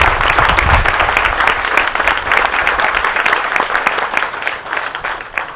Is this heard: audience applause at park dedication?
yes